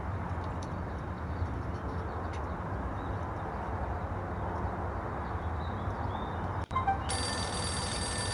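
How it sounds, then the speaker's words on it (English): A payphone rings in the game Max Payne, a faint repeating ring that only becomes clear and bright near the end, over a steady low ambient hum with no talk. "A payphone is ringing."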